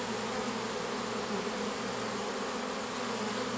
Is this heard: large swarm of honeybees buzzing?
yes